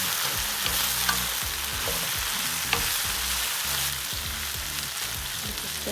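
Eggplant and pork stir-frying in hot oil, a steady close sizzle with rhythmic scraping of a spatula stirring through the pan, no voices.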